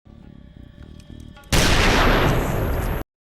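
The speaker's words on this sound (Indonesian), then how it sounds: "John memutuskan menembak mulutnya" A single loud gunshot blast from a film scene of a man shooting himself in the mouth, a sudden broad wall of sound cutting in after quieter tense music and lasting about a second and a half before dropping to silence.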